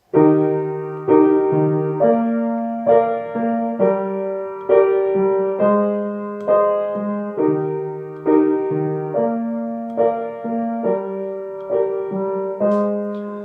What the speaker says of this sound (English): And if we play all these chords in the root positions, it sounds like this.